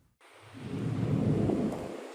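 Roaring wind and blowing snow from a major winter storm in California's Sierra Nevada mountains, a steady broad rushing that swells in after a brief silence and stays loud.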